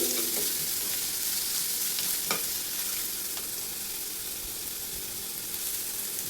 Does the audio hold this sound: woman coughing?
no